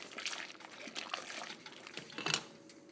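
Borax and laundry soap powder pour into a container of water for homemade detergent, giving a soft, uneven granular rustle and splash with a brief louder burst near the end, close by and with no talk.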